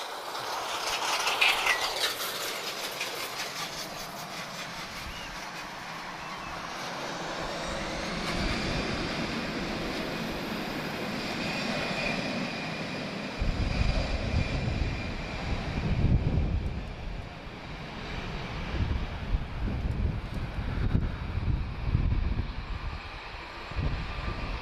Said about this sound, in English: A320 CEO, he's off to Dublin.